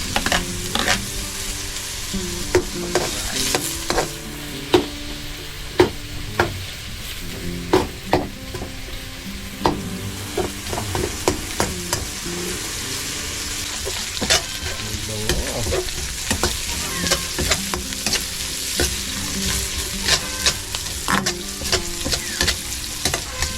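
Onions sautéing in a pan after garlic, a steady close sizzle broken by frequent sharp scrapes and clacks of a spatula stirring against the pan.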